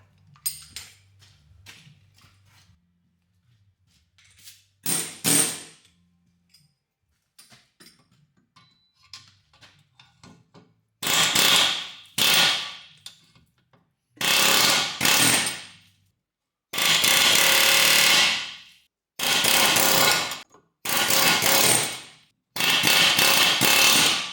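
Sharp metallic bursts of rapid hammering on a car exhaust, loud and close, coming in several separate runs after quieter scattered knocks at the start.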